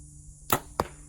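Two short, breathy grunts spaced a beat apart, a person imitating a nervous elk grunt with the mouth, close and fairly loud against quiet.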